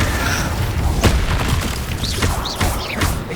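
Incendio fire spell cast in the Hogwarts Legacy video game on PS5, inside the Room of Requirement: booming blasts and whooshing bursts over a loud, dense battle din, with several sharp hits spread across the moment.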